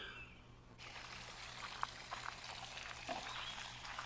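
Spring water pours out steadily, a soft continuous rushing splash that starts abruptly and holds with a faint low hum underneath, fairly quiet and without voices.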